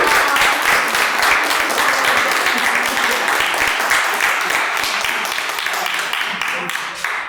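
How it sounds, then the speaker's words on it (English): Sustained audience applause at a women's empowerment award presentation honouring a Newark police dispatcher, a dense, even wash of many hands clapping throughout, slightly tapering near the end. "Can we get a round of applause?"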